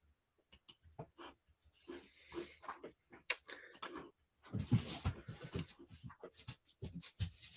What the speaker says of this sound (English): Dogs are behind me playing